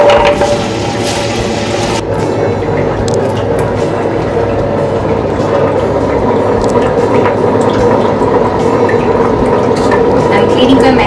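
Water is poured into a running wet grinder holding dumpling batter, its constant loud motor rumble mixed with a splashing fill sound.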